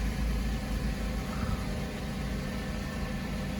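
A Porsche Boxster 986 engine idles steadily just after starting, a continuous low rumble with a faint mechanical whir, heard alone without voices.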